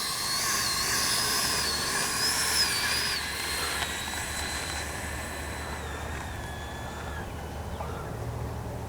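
A Freewing F-22 70mm EDF RC jet's electric motor runs steadily before takeoff, a continuous high whine with drifting tones that eases slightly partway through, loud and close, with no talk over it.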